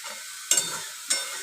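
Red amaranth leaves frying with salt and turmeric in a pan, a steady hiss broken by two sharp stirring scrapes, close and clear without speech.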